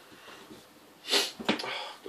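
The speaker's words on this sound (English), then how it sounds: "I'm sniffing." A person sniffs sharply through the nose, close to the mic, with a quick second sniff and breathy snorting following a quiet, low-level stretch.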